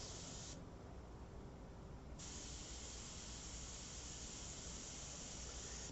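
Airbrush spraying paint onto a portrait, a steady soft hiss of air and paint running continuously throughout, close and fairly quiet, with no talking.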